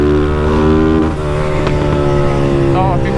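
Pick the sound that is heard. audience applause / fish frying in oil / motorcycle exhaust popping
motorcycle exhaust popping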